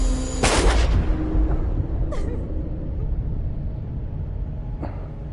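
A gunshot in the Until Dawn video game: one loud, sharp blast with a rumbling tail, followed by quieter game ambience and a faint later impact.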